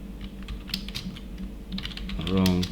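Programmer typing on a computer keyboard: scattered soft keystrokes close by over a steady low hum, then a voice briefly joins the typing near the end.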